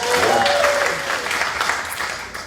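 Audience at a stand-up comedy show breaks into a short burst of clapping, a dense round of applause that fades within a couple of seconds.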